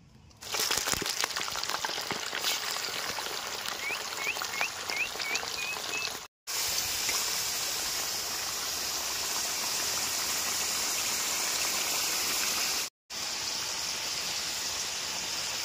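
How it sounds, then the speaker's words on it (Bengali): Chicken pieces fry in hot oil in a karahi with a loud, continuous, hissing sizzle, close and steady for the whole stretch, broken only by two brief cuts to silence, with no speech. "আমাদের তেল গরম হয়ে গেছে, এবার মাংসটা ভেজে নেবো।"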